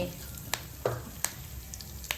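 Mustard seeds, cumin, sesame seeds and curry leaves sizzle in hot oil for a Kathiyawadi tempering, a soft steady hiss broken by a few sharp pops.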